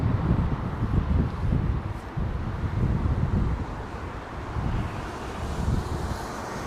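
Strong storm winds from Storm Nelson roar across the open ground at Heathrow Airport, buffeting the microphone in a continuous loud, gusty rumble without letup.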